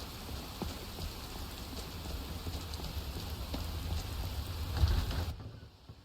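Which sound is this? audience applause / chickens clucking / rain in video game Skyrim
rain in video game Skyrim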